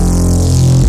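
A heavy neuro bass patch from the FM8 synth plays as one thick, loud, sustained low tone with a big, fat low end, heard alone.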